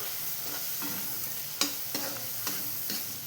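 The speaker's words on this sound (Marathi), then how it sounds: "तर बघू शकता मसाले टाकून घेतलेले आहेत आणि मस्तपैकी लाल होईपर्यंत परतून घ्यायचं आहे" Onion and spices sautéing in a pan for egg bhurji, a steady close sizzle and crackle broken by several sharp stirring scrapes of a spatula, with no talking.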